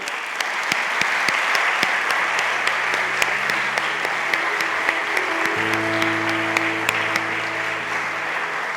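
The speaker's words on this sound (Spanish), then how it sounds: "os pido un fuerte aplauso" Sustained applause from a gala audience at an equality awards ceremony, steady dense clapping throughout with a faint tonal hum rising beneath it toward the end.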